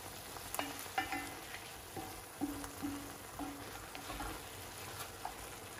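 Carrots frying in a pan for Nigerian meat pie filling, stirred with a utensil: a steady close sizzle with scraping strokes and light clinks of the spoon against the pan, repeating every second or so.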